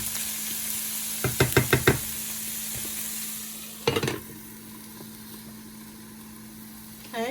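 Meat stir-fried in a pan, a low background sizzle with a quick run of sharp utensil knocks and a later clatter, over a steady hum.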